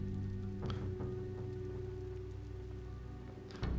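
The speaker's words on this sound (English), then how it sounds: "Rain pours down onto the naked city, as cold and impressive as ever." Rain falls steadily over night city streets in a video game, a soft continuous patter with a few faint tonal accents and a brief louder swell near the end.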